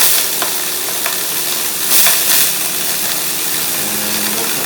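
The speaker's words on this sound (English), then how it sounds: "Vitamix that has a dry mix blade to it. And you grind this up. It's going to make a lot of noise at first until it's fine." A Vitamix blender with a dry mix blade grinds grain into flour for homemade challah, giving a loud, steady, coarse roar that holds throughout with no talking.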